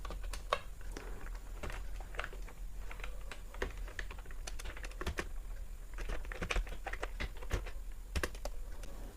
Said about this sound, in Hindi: यहाँ पर टाइप करें इनका नाम